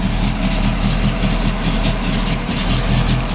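A 1967 Pontiac Firebird convertible's 326 V8 with a lopey cam idles loud and close, a deep, uneven, loping rumble pulsing steadily throughout, no voices over it.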